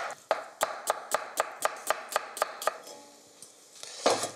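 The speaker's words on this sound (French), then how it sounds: "pour le taillage des oignons, essayez de les couper le plus fin possible" A knife slices onions finely on a board, with about a dozen crisp, evenly spaced chops at a quick rhythm, then a pause and a louder knock at the end, close by and alone.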